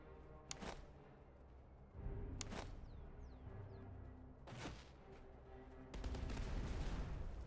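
Artillery firing round shot in the Napoleonic battle game Master of Command: several separate distant booms spaced a second or two apart, each with a rumbling tail, the last the heaviest.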